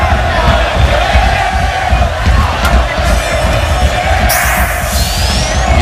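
A large, hostile home crowd roars steadily at an El Salvador versus USA World Cup qualifying football match, a dense wall of cheering and shouting that stays loud throughout, with a sharp whistle-like burst near the end.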